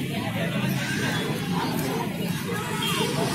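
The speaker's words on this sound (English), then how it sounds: "See the crowd guys. All this crowd for just this monument." A large crowd gathered at a monument on New Year's Eve produces dense, close chatter and speech babble that stays steady and fairly loud throughout.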